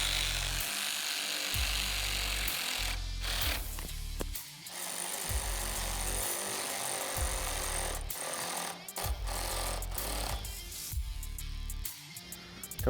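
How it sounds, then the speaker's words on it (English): A power tool tightens the lower windshield clamps on a Polaris RZR, giving loud rattling bursts in several runs with brief pauses between them. "Now we're going to fully tighten our lower clamps here."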